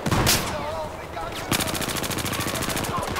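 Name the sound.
44 Magnum gunfire in the video game Battlefield 4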